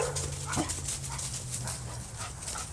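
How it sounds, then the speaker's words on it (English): Couple of dogs at a riverside cemetery giving soft yips, whimpers and a few muffled woofs over a steady low outdoor hum, fairly close but not loud. "There's a couple of dogs there."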